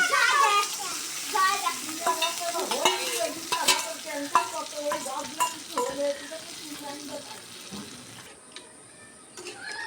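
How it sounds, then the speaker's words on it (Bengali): A spoon works spice paste, already fried until the oil separates, into coconut milk in a frying pan for an egg malai curry. Close, wet scraping and stirring strokes repeat over a soft sizzle, with voices murmuring underneath. "দুধের সঙ্গে মশলাটা ভালো করে মিক্স করে নেব"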